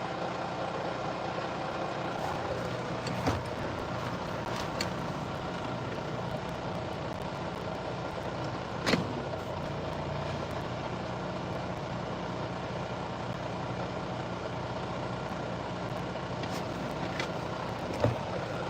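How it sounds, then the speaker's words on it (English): Truck engine idling steadily after starting, a low continuous rumble with a few faint clicks and knocks over the drone. "the truck started, which is a good thing"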